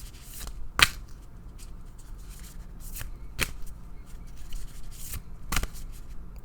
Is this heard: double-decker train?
no